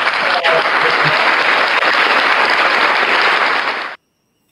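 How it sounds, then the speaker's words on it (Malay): An audience breaks into loud, even clapping that holds steady for about four seconds, then cuts off sharply into silence. "Kita bagi tepukan sikit."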